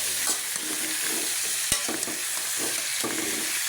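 Marinated pork for adobo sizzles and crackles in a hot pan while being stirred, a loud continuous frying hiss with a sharp utensil clack partway through.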